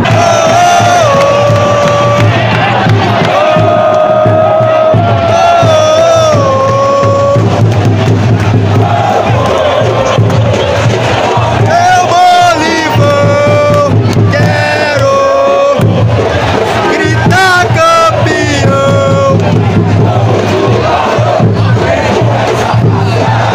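A packed football stadium of Sampaio Corrêa and Vasco da Gama supporters roaring and chanting together, a loud, unbroken wall of massed voices with rising and falling whoops throughout.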